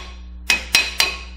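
Three light hammer taps on a Ford disc brake part during a brake renewal, sharp metallic clinks spaced evenly about a quarter second apart, close and alone over a low hum.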